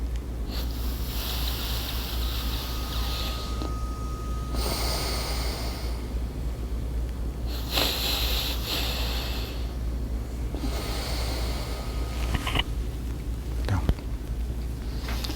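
Several long, deliberate breaths drawn in through one nostril, the other closed, loud and close, separated by short quiet pauses, with no talking.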